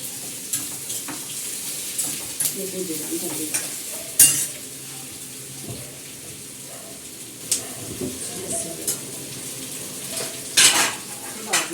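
Chopped onions frying in a pan in a village home kitchen, a soft steady sizzle with occasional stirring scrapes and clinks of a utensil against the pan.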